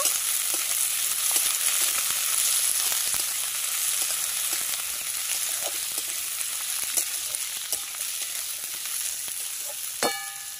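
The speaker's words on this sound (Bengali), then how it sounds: "এবারে কাঁচা টমেটো কুচিটা দিয়ে দেব পেঁয়াজের ওপর। দিয়ে ভালোভাবে নাড়িয়ে নেব।" Chopped raw tomatoes dropped onto onions in a pan sizzle and fry with a constant bright hiss, scattered soft clicks of stirring throughout and a sharper scrape near the end, with no voices.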